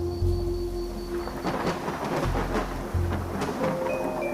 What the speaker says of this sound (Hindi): हे भगवान, इतनी तेज बारिश!